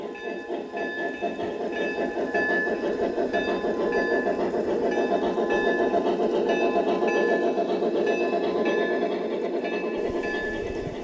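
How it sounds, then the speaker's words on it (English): A G scale two-truck Shay model locomotive runs on an outdoor garden railroad, giving a steady, continuous mechanical rumble with faint repetitive clicking that holds for the whole stretch, with no talking. "the first step is to pull engine number 5, which is actually Dan's two-truck shay"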